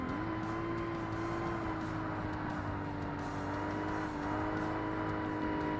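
A Nissan 240 ZX race car engine in a Forza Motorsport race holds a steady, loud droning note with only slight pitch shifts, a continuous whir running alone throughout.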